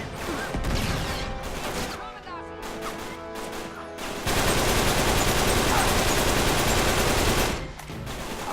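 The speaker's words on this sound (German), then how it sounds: "Ganzes Magazin in den Scheißtyp verballert." In the video game Uncharted 3, gunfire empties a full magazine in loud, rapid automatic bursts, with dense sustained stretches of shooting broken by brief pauses and other game sounds.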